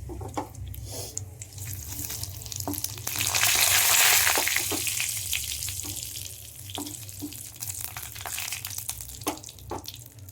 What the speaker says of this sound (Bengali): তেলের মধ্যে আমি দিয়ে দিয়েছি আদরক